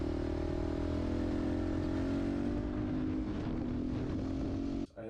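A cheap dirt bike engine revs and drones steadily while riding on dirt, its pitch rising gradually, loud and close with wind buffeting, before cutting off sharply at the end.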